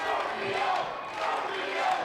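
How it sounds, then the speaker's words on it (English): A wrestling crowd at a CWFH TV title match chants a wrestler's name in a rhythmic, swelling roar that fills the arena, voices massed together and rising and falling in waves. "you hear the crowd here, guys, soundly behind Scorpio, chanting his name"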